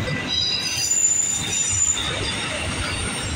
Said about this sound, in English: This is going to be a train meet.